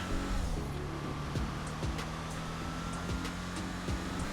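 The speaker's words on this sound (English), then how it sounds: "let's hop on the highway here so we can check out the acceleration." A Declasse Tampa GT muscle car with an HSW engine in GTA Online accelerates on a highway, engine droning loudly and steadily, its pitch climbing and dropping as gears shift, with no talking.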